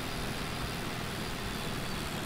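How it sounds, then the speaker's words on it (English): A tractor engine in the Farming Simulator 2013 video game drones as a steady, low, broadband rumble with no pauses, fairly quiet and continuous. "You're a loud tractor, that's fine."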